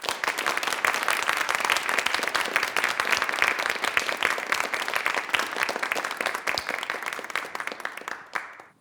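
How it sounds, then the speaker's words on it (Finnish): A large audience claps in sustained, dense applause as a speaker is welcomed onto the stage at a Finnish anti-racism talk event. The applause stays steady and loud for nearly nine seconds, then fades at the end. "Toivotetaan jälleen raikuvien aplodien saattelemana lavalle Mirja Mattias."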